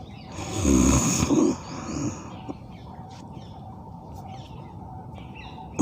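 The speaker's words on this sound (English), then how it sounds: "So initially let us have deep breathing." Deep yogic breathing during pranayama practice, one long loud rasping inhalation or exhalation through the nose and throat, close to the microphone, followed by quieter breathing and faint background chirps.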